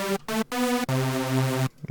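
A long synthesizer lead plays a few sustained, buzzy, harmonically rich notes, the last held for most of a second, clean and alone with no voice.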